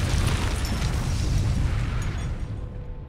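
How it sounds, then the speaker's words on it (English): A grenade goes off at a dam in a Fallout game setting, giving a loud, deep rumbling explosion that fills the clip and slowly fades away. "Another explosion rocks this dam."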